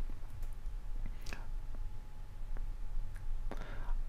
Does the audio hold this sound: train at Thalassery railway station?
no